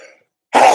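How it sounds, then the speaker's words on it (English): A single abrupt, loud sneeze bursts out close by after a moment of near silence during a Saturday seminar talk. "sneeze coming."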